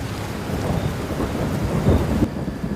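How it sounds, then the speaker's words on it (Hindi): Rain pouring outside at night with deep rolling thunder rumbling through, loud and continuous, no voices. "बाहर अभी भी बरसात हो रही थी।"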